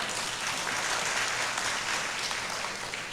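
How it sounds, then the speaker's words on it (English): Hall audience at a political speech clapping steadily, a continuous dense patter of hands at moderate distance, fairly soft and unbroken for the full few seconds. "Only the women are clapping"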